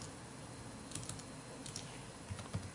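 Quiet, irregular clicks of keys on a computer keyboard as a search phrase is typed, coming in short bursts over a low steady hiss.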